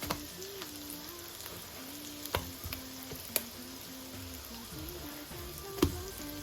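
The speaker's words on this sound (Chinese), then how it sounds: "翻过来之后，继续给它烙，把另一面也给它烙至金黄" A thin-skinned meat pie (xianbing) pan-frying after being flipped, giving a soft, steady sizzle with a few faint clicks and taps from the pan, quiet and close, with no voices.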